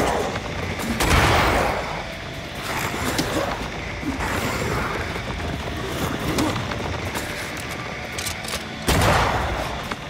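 Bursts of gunfire aimed at a spectral lantern in the action RPG Banishers: Ghosts of New Eden, loud volleys near the start and end over a steady bed of game ambience and effects.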